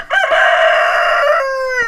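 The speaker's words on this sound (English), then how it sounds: "a little group of chickens like this" A rooster crows loudly and close, one long drawn-out call that bends downward at the finish.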